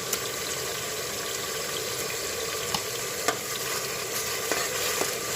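Ginger garlic paste frying with onions in a pan for khichda, a dense, even sizzle close by with a few light scrapes and taps from stirring.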